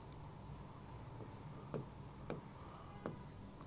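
Chalk or marker strokes on a board during a chemistry lesson, three short quiet scratches spaced about half a second apart over a faint room hiss.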